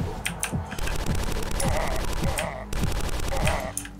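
Full-auto gunfire in the first-person shooter DUSK: a loud, rapid, evenly spaced stream of shots with low thumping kicks runs almost the whole time, pausing briefly once before resuming.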